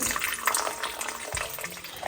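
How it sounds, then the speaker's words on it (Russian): About 50 grams of water is poured into a sourdough starter, giving a soft, brief trickle close by with no talking. "Добавлю сюда 50 грамм воды"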